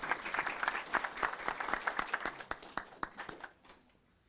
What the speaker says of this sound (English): If we can give them a big Moreno Valley round of applause as they join me here at the mic.